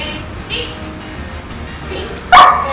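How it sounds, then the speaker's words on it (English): A dog gives a single sharp bark near the end, following a stretch of quiet room noise with faint voices. "her barking brings a reward"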